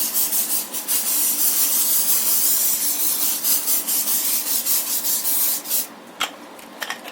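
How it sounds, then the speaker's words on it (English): Cooking spray hisses onto a casserole dish in long bursts, close and loud, with short pauses and a few clinks near the end. "I'm going to spray my casserole dish."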